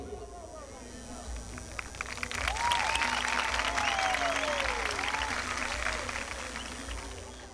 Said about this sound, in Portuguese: Então, como é que faz o povo bater palma?